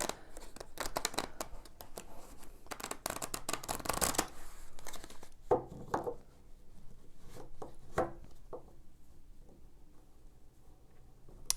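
Tarot cards being shuffled by hand, dense rapid riffling and slapping bursts up close, then sparser card flicks and taps trailing off.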